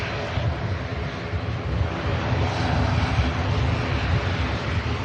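An airliner landing at Manchester Airport in a gusty southerly crosswind, a loud continuous engine roar with broadband rushing noise, steady throughout and without voices.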